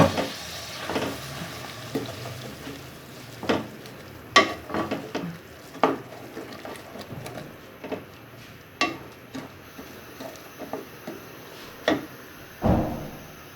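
A spoon stirring tomatoes into mutton karahi in a pan, giving scattered scraping clinks and soft sizzling bursts in an irregular rhythm, close and alone with no talking.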